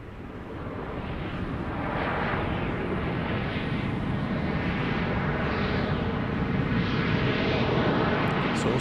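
A plane landing on runway 13 left at Dallas Love Field at night: a steady, loud jet roar that swells over the first two seconds and holds broad and rumbling throughout, with no talk.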